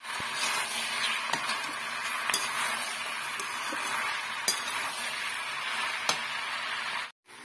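Chili chicken sauce with soy and tomato sauces sizzles steadily in a pan on low heat while a spoon stirs it, scraping and clinking against the metal every second or so, close and continuous.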